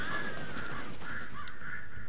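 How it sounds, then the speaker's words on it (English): Crows cawing in the horror video game Alan Wake, a string of harsh, repeated caws at moderate distance over a faint eerie ambience. "Stupid birds."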